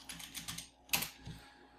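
Several quick, soft keystrokes on a computer keyboard, with a sharper clack near the middle, close and quiet, as a terminal command is typed.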